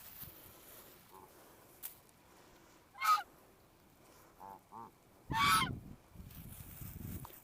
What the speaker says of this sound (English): this bird even gets pissed if you don't put it close enough to him